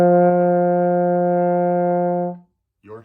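A single steady note on a baritone horn, sustained evenly for about two seconds with a full, harmonic-rich tone, then cut off, followed by a brief snatch of speech.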